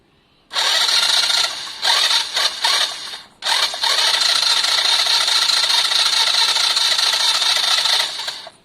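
Starter motor of a Lexmoto Valiant motorbike cranks loudly with its solenoid bridged, a steady whirring grind in several bursts with short breaks, then one long sustained run that tapers off.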